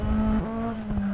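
A Kit Car's rally engine drones steadily in the Dirt Rally racing game, dipping briefly in pitch as tires scrub and skid, loud and close with no talk.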